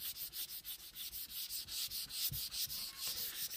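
Hand sanding of a wooden Rega turntable plinth between clear coats, a steady run of rhythmic back-and-forth rubbing strokes, close and even, with no talking.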